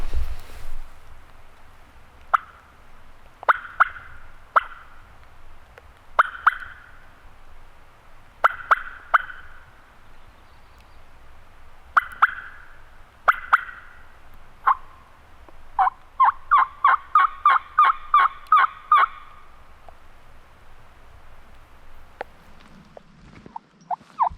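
A wild turkey gobbles repeatedly in the open in Oregon, the rattling calls coming in bursts, ending in a fast run of gobbles, with no talking.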